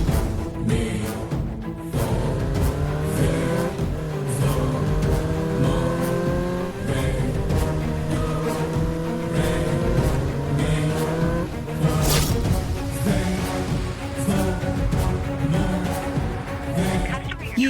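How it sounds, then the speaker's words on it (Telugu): Several motorbikes draw near, their engines droning and revving with rising and falling pitch, loud and continuous throughout, with voices talking over the engine noise. "వేరే వాళ్ళ బైక్లు వస్తున్నాయన్నా"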